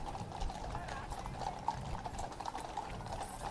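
Horse hooves clip-clop on pavement during a British Army Horse Guard display, a steady run of fairly close strikes over a busy outdoor background with murmuring crowd noise.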